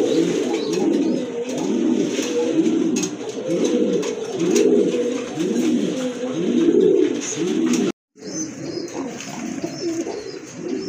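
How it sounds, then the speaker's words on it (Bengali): Large white Indian Lotan pigeons coo close by in a steady, rhythmic series of throaty calls that overlap continuously. The sound drops out briefly near the end, then the cooing resumes. "এটা হচ্ছে আপনার হোয়াইট কালারের লোটন, বিগ সাইজের কবুতর।"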